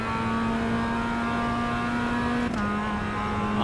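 A Mazda MX-5 race car at Oulton Park drones with a steady, close engine note, and a brief dip in pitch partway through marks braking and a downshift.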